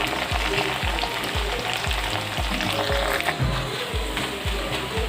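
Steady, loud crackling sizzle of breadfruit pieces frying in hot oil, with regular low thumps of stirring running through it; no voices.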